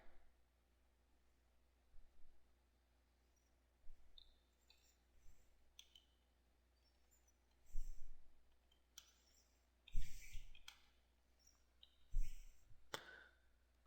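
Computer mouse clicks while placing a watermark on an image, several sharp separate clicks spaced a second or two apart, close and fairly quiet over a faint background hiss, with no talking.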